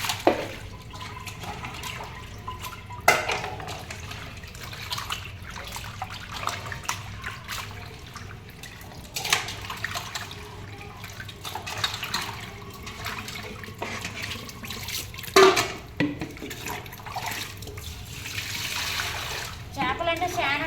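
Tap water runs steadily at close range while fish pieces are washed in a kitchen, a continuous splashing rush with occasional clatters and bumps.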